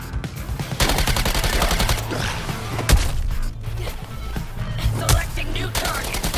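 Sustained automatic gunfire from the game Suicide Squad Kill the Justice League rattles loudly and continuously with heavy thumping impacts, close and dense, with brief gaps between bursts.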